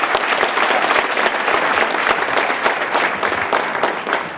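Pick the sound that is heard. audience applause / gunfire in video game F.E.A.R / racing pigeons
audience applause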